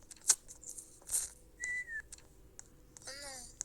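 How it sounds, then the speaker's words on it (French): Short whistles from a person in a quiet room during a hide-and-seek game, a few brief chirps followed by a rising tone and a warbling whistle near the end, faint and close. "Il a sifflé"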